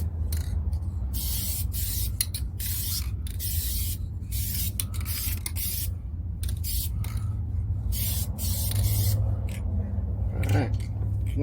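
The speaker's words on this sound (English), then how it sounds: "Ready for some spray paint now." A spray can hisses in long, near bursts while rust repair on a 2013 Chevrolet Silverado is painted over, steady and loud with short pauses between passes.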